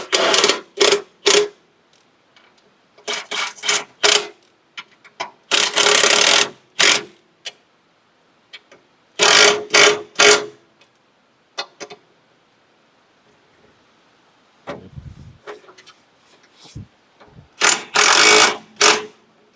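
A hand ratchet tightens the bolts of a cover on a TYM T25 tractor, its clicking arriving in short, loud bursts separated by pauses of silence.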